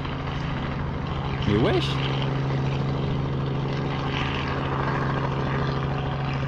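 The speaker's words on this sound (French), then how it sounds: "Et qu'est-ce qu'il fait avec son hélicoptère? Voilà, l'hélicoptère s'est posé là, dans la montagne." A helicopter landing in the mountains gives a steady, droning rotor and engine hum that runs unbroken through the whole stretch at a moderate distance, with a brief voice breaking in early on.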